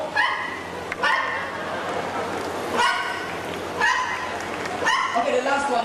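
At a bird park in Singapore, a parrot mimics a dog, giving about five sharp, barking calls spaced roughly a second apart over faint crowd background.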